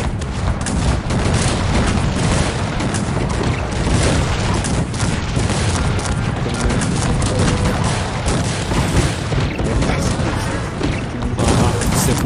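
Dense, continuous barrage of booming cannon and howitzer blasts with crashing thuds in the video game Cossacks 3, loud and overlapping throughout.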